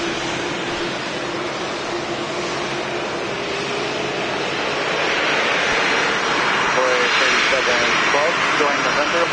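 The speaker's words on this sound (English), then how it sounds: "JetBlue Airways Flight 1351. It's an E190AR coming in from Nantucket." A JetBlue Embraer E190AR jet airliner lands at Boston Logan Airport with a broad, continuous jet roar that grows louder over several seconds, while people talk faintly underneath.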